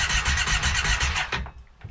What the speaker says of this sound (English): Well, I'm starting the engine.